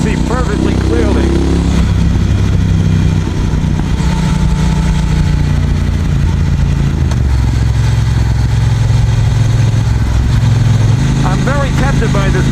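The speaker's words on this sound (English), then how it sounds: "it sounds like an aftermarket exhaust system" A 2018 Triumph Bonneville Speedmaster motorcycle engine runs close by with a steady, deep, throbbing rumble throughout, and brief talk comes in at the start and the end.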